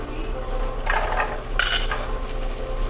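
Butter with onions and garlic sizzles in a frying pan, a close crackling hiss with brief bursts as food is stirred and utensils clink against the pan.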